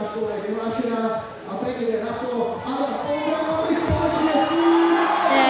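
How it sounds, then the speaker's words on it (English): Spectators at an IFSC men's bouldering semi-final in Prague cheer and shout in a steady roar, with whoops rising over continuous crowd noise and commentators talking over it. "the crowd outside of the commentary box is going wild"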